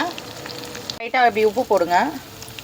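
Small onions sautéing in hot oil for a fish curry, a steady close sizzle alone for a moment before a voice talks over it.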